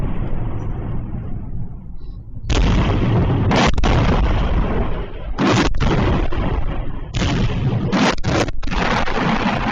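Repeated loud booming explosions from precision strikes on Russian targets in a city during the Ukraine war, several heavy blasts and bursts in quick succession, some cut abruptly, with a rumbling low background between them.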